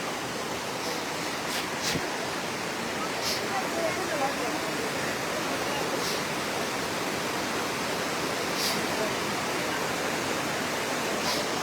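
Floodwater from Mizoram rushes over a road at Godamghat in Hailakandi like a river, a steady, loud roar of torrential flow that continues unbroken throughout.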